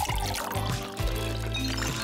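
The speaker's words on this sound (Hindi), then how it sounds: "जेली पाउडर लेते हैं, एक ग्लास वेसल और थोड़ा पानी। अब सबको मिक्स करो" Jelly powder and water being stirred in a glass vessel, with splashy, pouring liquid sounds and a few soft knocks against the glass, fairly close and continuous.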